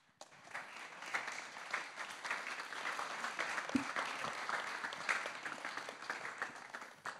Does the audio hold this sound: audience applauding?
yes